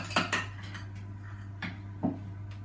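Raspberry crumble-top muffin mixture is spooned into cake cases: a few sharp clinks and taps of the spoon against the bowl come in irregular bursts over quiet kitchen background hum.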